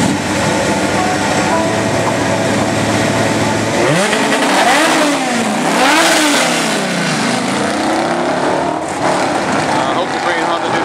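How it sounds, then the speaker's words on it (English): A green Honda and a black Trans Am race at a drag strip, engines roaring loudly as they accelerate and pass with rising and falling pitch sweeps, while a person talks over the noise. "check out the green Honda racing Patrick and the black Trans Am"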